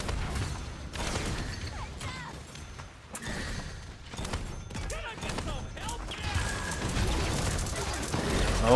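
Chain gun fire and other weapon blasts in the team shooter video game Paladins, moderately loud rattling bursts layered with abilities, impacts and battle effects, with voices heard now and then across the match.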